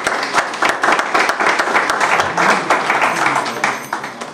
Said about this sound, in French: On peut encourager le prof avec vos acclamations, s'il vous plaît.